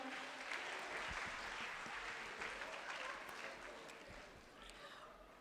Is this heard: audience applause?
yes